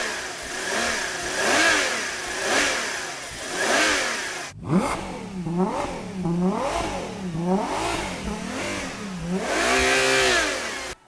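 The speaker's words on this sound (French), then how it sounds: "Alors après cette petite symphonie en V12" A Ferrari Purosangue's 6.5-litre naturally aspirated V12 revs hard. It holds a steady high howl first, then climbs through a series of sharp rising and falling rev sweeps, loud and close, with no talking.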